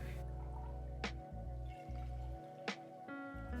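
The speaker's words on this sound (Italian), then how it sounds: "Ci aggiungiamo 320 g di acqua tiepida" Lukewarm water is poured into gluten-free focaccia dough mix with yeast, heard as gentle liquid drips and trickles with a couple of sharper splashes, close and quiet over a low steady hum.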